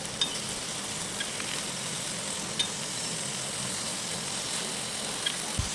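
Beef seekh kebabs sizzle on a gas stove as they are turned, a steady close hiss of frying with a few faint clicks and knocks scattered over the top.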